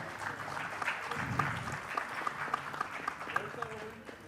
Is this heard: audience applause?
yes